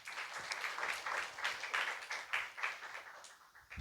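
Audience applause at a New Year church celebration: a dense, steady patter of many hands clapping together for several seconds, fairly close and continuous, with small swells in intensity.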